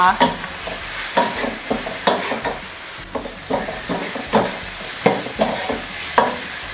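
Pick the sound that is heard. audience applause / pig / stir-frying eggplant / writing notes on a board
stir-frying eggplant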